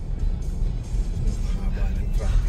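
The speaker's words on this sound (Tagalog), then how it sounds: "Haba ng traffic." Heavy road traffic on Taft Avenue rumbles steadily, with cars passing and engine drone filling the low end while people talk over it.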